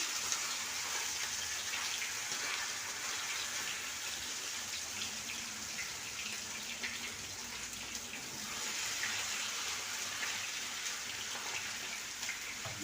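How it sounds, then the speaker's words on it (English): Fish fries in hot oil for a Jamaican-style meal, a dense, steady crackling sizzle like heavy rain that continues close and even throughout. "Put in fish, make them go and fry."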